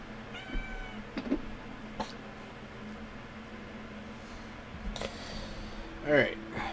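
A cat meows several times close by, short plaintive calls spaced across the clip, with the loudest meow near the end and a quiet background hum.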